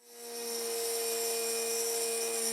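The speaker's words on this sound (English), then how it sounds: "this little grinder is not the ideal tool" A small grinder shaping a brass piece for a steam locomotive spins up and holds a steady, high whining tone, close and continuous with no talk.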